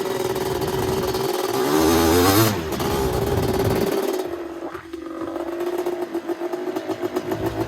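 A 250R dirt bike engine revs hard on sand dunes, a loud buzzing two-stroke snarl that rises, cuts off briefly, then returns with choppy, pulsing throttle blips close to the microphone.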